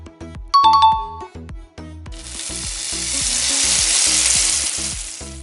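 Sausages frying in a pan on a stove flame: a steady, loud broadband sizzle that swells in after a stretch of rhythmic kitchen tapping and a few chiming tones, continuing alone to the end.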